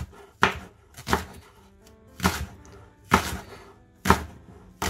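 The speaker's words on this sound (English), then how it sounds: "I'm going to chop it like this" A knife chops shallots on a cutting board in five or six separate thuds, each spaced about a second apart, close and fairly loud with no talking.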